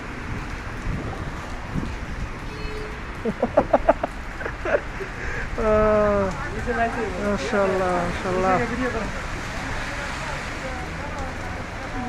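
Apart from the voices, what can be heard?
heavy rain falling in Al-Ahsa, Saudi Arabia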